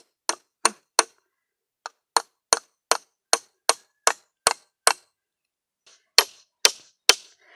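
A wooden walking stick struck repeatedly with a hammer: sharp, close knocks in an irregular series, about a dozen quick blows, a short pause, then a few more, each dying away fast.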